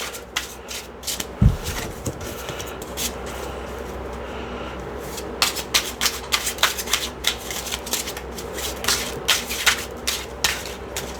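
A new tarot deck being shuffled by hand, with a steady run of close, crisp riffling and rubbing card sounds, briefly pausing before resuming in quick rhythmic bursts.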